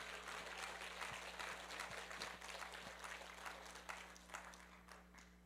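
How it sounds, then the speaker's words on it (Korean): A church congregation applauds during a Korean Sunday sermon, a soft, steady, distant patter of many hands lasting several seconds over a low hum. "박수로 하나님께 영광을 돌려요"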